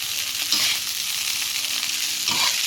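Rice stir-fried with canned fish in a wok, a loud, dense sizzle running throughout, with two swells where the spatula tosses the rice, close and steady with no speech.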